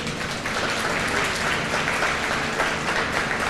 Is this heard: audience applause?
yes